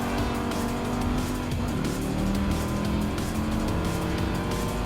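Engines roar at close range in a Gran Turismo 7 race, a Dodge Viper among the cars, with a sustained tire squeal running through the dense, loud racing noise.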